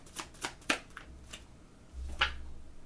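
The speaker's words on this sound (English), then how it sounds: "Let me move this so I got more room to shuffle." Tarot cards shuffled by hand during a reading, giving a few short, crisp riffling bursts spaced out over a quiet room, close and fairly soft, with no talking.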